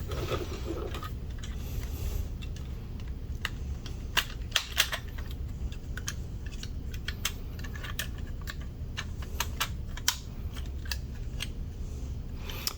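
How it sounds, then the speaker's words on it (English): Transformers Legacy Omega Prime toy figure being handled and transformed gives off a run of sharp, crisp plastic clicks and ratchets, irregular and close up over a low, quiet background. "We're gonna unfold his body. Ooh, the good clicks."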